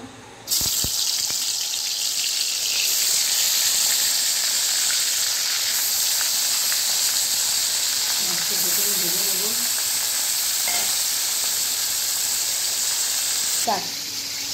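Fish rubbed with salt and turmeric, including a khoira, hits hot oil in a pan and sets off a loud, continuous hissing sizzle that lasts throughout. A voice is heard faintly under the sizzle.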